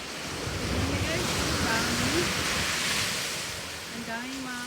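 Surf washes onto a driftwood-strewn beach in a steady loud roar, mixed with wind buffeting the microphone, while a voice speaks faintly underneath.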